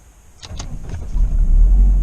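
A starter whirs briefly, then a Mercedes SLK230 engine catches and settles into a loud, steady low rumble, close by.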